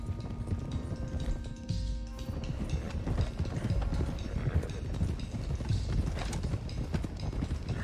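Horses' hooves clip-clop steadily through the whole stretch in Red Dead Redemption 2, a continuous galloping rhythm from several animals, fairly close and loud, with game ambience and no talk.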